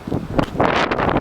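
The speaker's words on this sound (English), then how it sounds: "Windy as heck out here today." Strong gusty wind buffeting the microphone outdoors on a snowy day with gusts around 30 miles per hour, heard as loud, uneven rumbling bursts with no talk.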